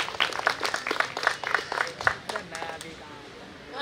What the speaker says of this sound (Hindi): माइक पर इस्तकबाल कीजिए ज़ोरदार तालियों के साथ मोहतरमा सपना मूलचंदानी साहिबा।